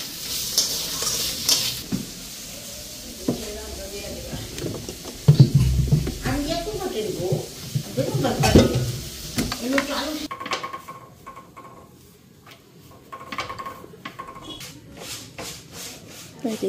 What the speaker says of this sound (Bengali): কালকের মিক্স ভেজিটেবল সবজি, এটা একটু গরম করে নিতেছি।